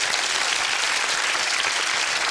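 A studio audience at a 1997 quiz-show recording breaks into loud, dense applause, a continuous roar of many hands clapping at once, close and unbroken throughout.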